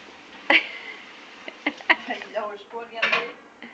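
Clean dishes clink and clatter as they are stacked back into a kitchen cupboard, with several sharp ceramic knocks and rattling cutlery, while people talk in the background.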